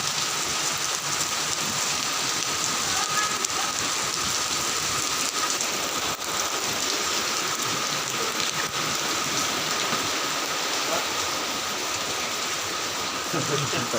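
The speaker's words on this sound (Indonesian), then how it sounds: "Hujan deras banget nih guys." Heavy rain pours steadily in Cinere, a dense, constant hiss on surfaces that stays loud and unbroken throughout, with a faint low rumble underneath.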